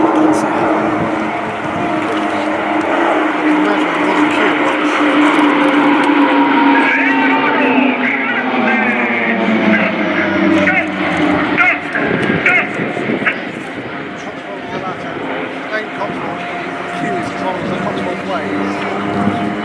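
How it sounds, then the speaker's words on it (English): Swiss Air Force Pilatus PC-7 aerobatic team flying formation loops at the RIAT 2018 airshow, a loud sustained propeller drone that shifts in pitch as the planes pass, with an announcer talking over it. "let's connect to the lead aircraft and follow this unmatched speciality of the PC-7 aerobatic team, the 4 single loops"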